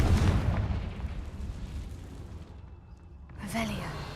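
A Confringo spell from a Harry Potter video game explodes with a heavy, loud boom and a rumble that fades out, followed by a brief swishing magical effect.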